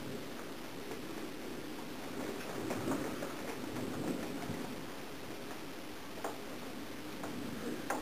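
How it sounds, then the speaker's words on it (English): Rain and gusting wind during a storm in Maryland after a power outage, a steady broadband wash with scattered taps and drips hitting surfaces, fairly faint and continuous throughout with no talking. "rain's going in every direction, wind's going every direction"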